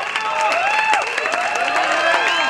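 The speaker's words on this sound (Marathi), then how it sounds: "त्यांच्यासाठी एकदा जोरदार टाळ्या होऊन जाऊ दे" An audience claps for a tabla and daf player at a college singing competition, a dense, sustained round of applause with voices rising over it.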